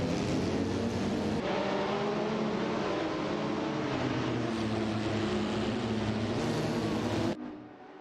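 Race cars drive on a track in a continuous loud engine drone with shifting pitch as they speed past, ending with a sudden drop to a quieter hum.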